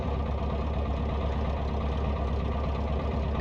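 Piper Cherokee piston engine idling just after start at around 900 rpm, a steady, loud, rumbling drone with a chugging beat and no talk.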